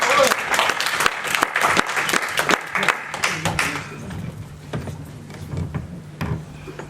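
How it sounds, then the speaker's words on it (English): An audience gives a big round of applause for a performer welcomed to the stage at a tribute event, dense clapping that thins out toward the end, with some voices under it. "Big round of applause."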